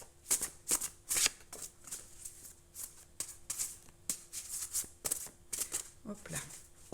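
Celtic tarot cards are shuffled by hand in a series of quick papery riffles and soft slaps that come in irregular bursts, close by, with a quiet voice now and then.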